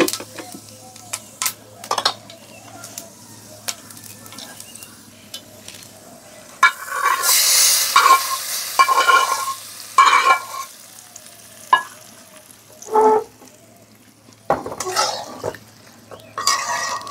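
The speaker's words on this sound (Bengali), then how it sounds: "তো এটা একটুখানি বাগার দিই।" Whole spices (fenugreek, fennel and black cumin seeds) tempered in hot oil, giving a bright crackling sizzle that flares up midway, with stirring and a few utensil clinks against the pan, close and fairly loud.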